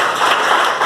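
A congregation claps their hands during a church sermon, producing a brief, steady patter of many hands clapping together.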